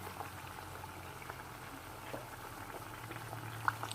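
Small sugar doughnuts frying in hot oil, a steady fizzing bubble that holds at an even level throughout, with a couple of faint clicks near the end and no talking.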